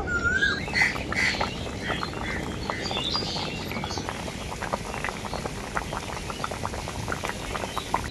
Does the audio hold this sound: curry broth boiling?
yes